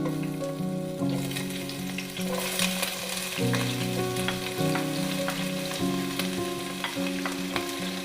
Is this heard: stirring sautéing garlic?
yes